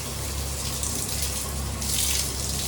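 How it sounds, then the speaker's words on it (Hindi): Tap water gushes steadily onto a knee-length waterproof sock, a continuous close splashing hiss that swells slightly louder near the end. "और अभी इसका वाटर टेस्टिंग डायरेक्ट टैप के नीचे"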